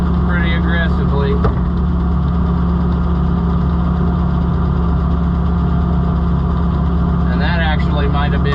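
A Chrysler 318 V8 powers an old, neglected Oliver 545 combine, running steadily at idle with a loud, unbroken low drone and a faint clatter from the machinery over it.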